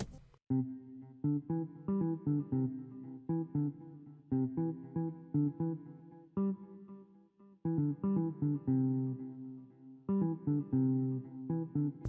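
Guitar line from the hook of an amapiano remake of a song plays solo in repeated phrases of clipped, plucked notes, loud and close, broken by brief gaps.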